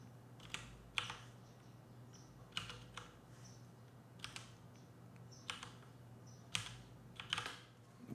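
Someone types on a computer keyboard in short, uneven bursts of soft key clicks separated by pauses, close and quiet against a low steady room hum.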